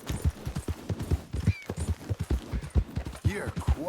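Horse hooves clip-clopping in a steady trotting rhythm with a brief whinny, from the Red Dead Redemption II video game, close and fairly loud throughout.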